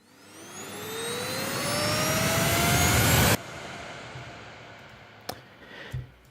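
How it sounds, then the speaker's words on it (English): A synthesized riser effect for epic trailer music, made with a Viral Audio Ascent plugin in Logic Pro with reverb and EQ, sweeps steadily upward in pitch and swells louder for about three seconds before cutting off abruptly into a softer reverberant tail. "This is the first riser."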